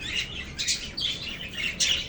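Two pigeon chicks make thin, high-pitched peeping squeaks in several short repeated bursts, close by and fairly clear, with no talking over them.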